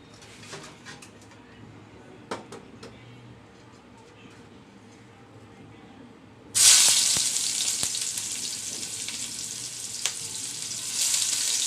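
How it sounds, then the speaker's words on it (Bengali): Onion and garlic hit hot oil in a pan and erupt into loud, continuous sizzling partway through, after a quieter stretch of kitchen noise with occasional clicks. "পেঁয়াজ আর রসুনগুলো একটু তেলের মধ্যে ভেজে নিচ্ছি"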